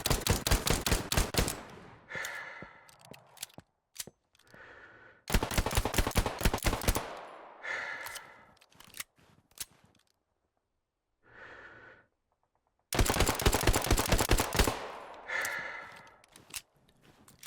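Weapons fire in a World War II shooter game, Hell Let Loose, with loud bursts of rapid automatic gunfire separated by gaps, single shots and heavy breathing.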